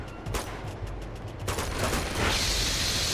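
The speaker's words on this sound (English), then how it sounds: "Shoot the chain!" Rapid gunshots fired at a chain in the video game Uncharted 2, a loud continuous volley that swells into a heavier rumbling burst.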